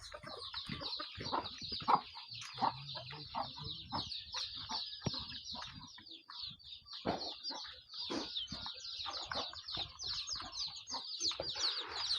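Burmese fighting roosters cluck and chatter continuously at morning feeding, a dense overlapping flock of close birds with occasional louder calls and no talking.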